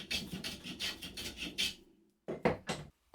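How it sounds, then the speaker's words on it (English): Hand tools tapering the ends of a wooden rail, a spokeshave and chisel shaving the wood in a quick run of about seven rasping strokes, a short pause, then three more close, crisp strokes. "I tapered the ends with a chisel and spoke shave until they slid neatly into the holes"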